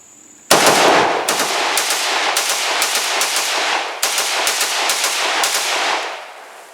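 A Cugir WASR-10/63 Romanian AK rifle fires a rapid string of about a dozen loud, close gunshots in quick succession with sharp reports and ringing decay, then falls quiet.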